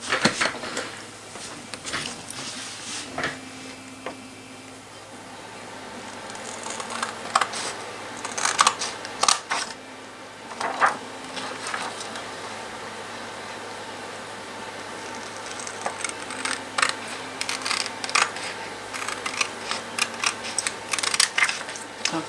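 Stamp material being cut for a homemade stamp made with a Teresa Collins stampmaker, close clicky snips and taps in irregular bursts with quieter handling gaps between.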